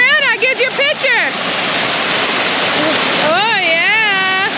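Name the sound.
waterfall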